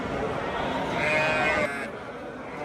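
A sheep lets out a long, loud bleat nearby amid a noisy crowd at a livestock market, with people talking in the background.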